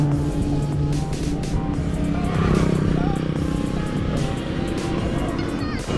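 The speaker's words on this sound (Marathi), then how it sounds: "बघा गाडी एका बटन स्टार्ट मध्ये लगेच स्टार्ट झाली." Apache RTR 160 4V motorcycle engine running after a push-button start, a steady close idle hum throughout with someone talking over it.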